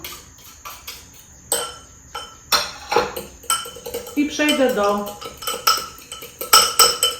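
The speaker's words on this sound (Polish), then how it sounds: "I teraz to wszystko wymieszam." A utensil clinks and scrapes repeatedly against a bowl in an uneven rhythm, with a voice speaking briefly.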